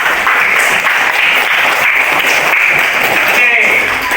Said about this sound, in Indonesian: Beri tepuk tangan untuk Lisa Putri